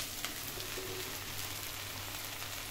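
Raw jackfruit fries in plenty of oil while being stirred, giving a steady, close hiss of sizzling that holds even throughout without a break.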